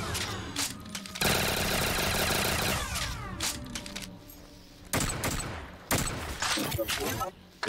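Dual burst gun fires in a video game on the Octogonal Ascension map: loud, sharp bursts of rapid shots, a long dense volley early on, then separate short bursts near the end, with no talking.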